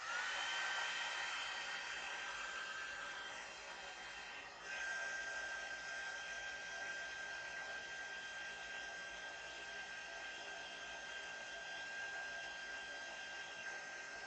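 A hair dryer blows steadily on a journal page, a close, even whirring hiss with a high whine that dips briefly in the middle before resuming.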